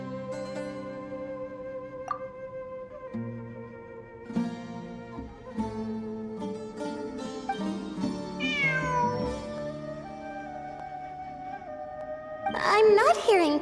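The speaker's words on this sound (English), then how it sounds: "I'm not hearing things. It really is a cat." A cat meows in the video game Genshin Impact, set against layered game music with voices; a rising, warbling call stands out near the end.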